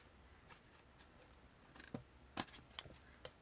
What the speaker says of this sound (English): let me cut off our frayed edge